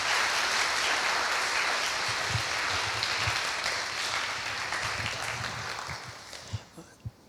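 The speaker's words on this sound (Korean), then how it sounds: "우리 목사님 나오실 때 우리 박수로 환영하겠습니다." A church congregation claps to welcome the pastor at a Sunday service, a soft, steady wash of applause from the room that slowly thins out, with a few last separate claps at the end.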